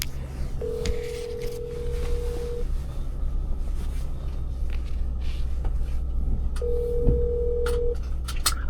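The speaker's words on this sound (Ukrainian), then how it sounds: "Зараз позвонимо Кості" A phone call being placed, with two long steady ringback tones repeating a few seconds apart over a constant low background hum and faint clicks.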